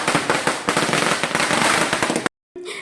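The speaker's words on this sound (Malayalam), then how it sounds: "പടക്കം പൊട്ടിക്കലിന്റെ ഫസ്റ്റ് തിരികൊളുത്തൽ." Firecrackers set off at a Perunnal (Eid) festival celebration: a loud, dense burst of rapid crackling pops runs for about two seconds, then cuts off abruptly into silence, followed by a faint low hum.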